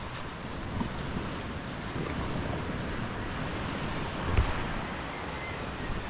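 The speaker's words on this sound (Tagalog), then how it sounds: "Ganda ng dagat natin guys oh." Sea waves wash steadily against the shore on a calm morning, making a continuous broadband rush with gusts of wind noise and one brief low thump partway through.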